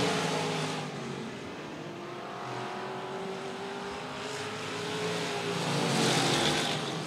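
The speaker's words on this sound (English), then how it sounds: "Batt and Joe O'Brien now trying to take advantage of Kelvin Harper up on an outside lane" Race cars lap a dirt speedway at Cotton Bowl Speedway, a steady loud roar of several engines droning and swelling as the pack passes, continuous without pauses.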